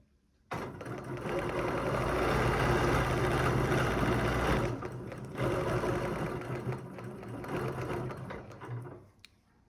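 A sewing machine with a ruler foot quilts a quilt in a steady, fast, close whirring run that pauses briefly and then resumes before stopping.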